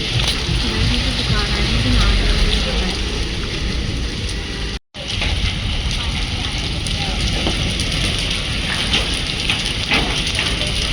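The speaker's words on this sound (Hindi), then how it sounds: "पर गाइस यहाँ पे बारिश हो रही है" Steady heavy rain pours down in a dense, continuous hiss close by, with a brief dropout midway before the downpour resumes, during a hailstorm.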